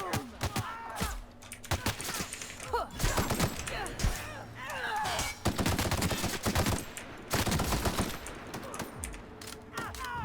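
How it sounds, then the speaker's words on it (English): Rapid bursts of gunfire in the video game The Outer Worlds, sharp cracks in quick clusters with brief pauses, fairly close, with faint talk in the background. "nothing quite beats shooting someone in the face with a sniper rifle"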